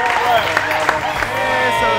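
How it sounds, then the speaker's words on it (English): A crowd applauds and cheers for the a cappella group Pentatonix at a video shoot, dense clapping filling the air with voices mixed in. "give a big round of applause to Pentatonix"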